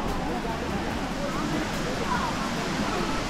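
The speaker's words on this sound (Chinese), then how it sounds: "哇，那里又一个瀑布了。原来这里又有一个。" Guanyin Falls in Zhuqi, Chiayi pours down its third tier, a steady broadband rush of falling water heard from a viewing spot along the trail, continuous and moderately loud with faint background voices.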